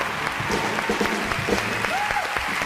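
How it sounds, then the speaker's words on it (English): Audience applause for six eco and humanitarian organizations, a steady, dense clapping from a large crowd filling the whole stretch at even volume. "Let's give a round of applause to the 6 dedicated eco and humanitarian organizations"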